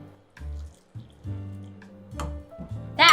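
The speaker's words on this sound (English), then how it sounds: "And we're going to add some hot water right over the top." Hot water is poured over dried shiitake mushrooms in a bowl, several short pours and drips with gaps between, close and fairly loud, ending in a brighter splash.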